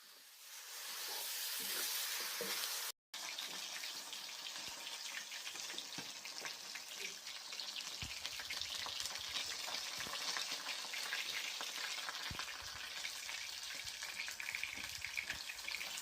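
Meat frying in a pan together with potatoes and cauliflower, a continuous hissing sizzle with bursts of steam and occasional stirring scrapes, close and steady after a brief dropout near the start, no voices.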